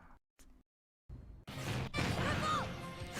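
A charged smash attack in a Nintendo fighting game lands with a loud, crashing impact after a few short bursts of game sound, followed by a sustained whooshing, crackling fire-like roar that fills the rest of the moment.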